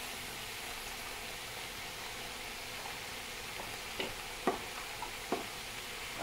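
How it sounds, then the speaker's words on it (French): Onions and carrots sizzling steadily in the bowl of a Cookeo multicooker, a soft constant hiss with a few light clicks and scrapes near the end, fairly quiet. "Je vais verser mes oignons avec les carottes dans la cuve du Cookéo."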